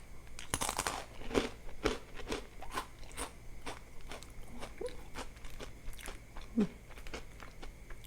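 Crisp vegetables being eaten up close, with sharp crunchy bites and chewing repeating steadily throughout. The crunching stands nearly alone, with faint background noise.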